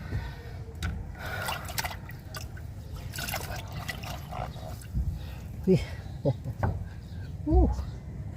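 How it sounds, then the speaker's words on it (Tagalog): Water dripping from a leak, falling in scattered drips and small splashes with a wet trickle, heard close up while people talk over it. "Dito may tulo dito eh."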